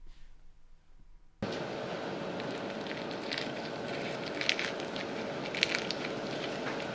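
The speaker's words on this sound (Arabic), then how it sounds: "شوفوا كيفاش خرجت ودوك تسمعوا التقرميشه" A crispy fried chicken samosa is bitten or broken open after a quiet moment, starting a dense, loud crackling crunch that keeps going close up with sharper crisp snaps scattered through it.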